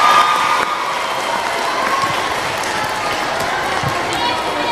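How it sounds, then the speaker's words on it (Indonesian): Audience clapping at an Indonesian religious gathering, a steady, moderately loud patter of many hands sustained throughout, with voices mixed in beneath the applause. "Tepuk tangan dulu."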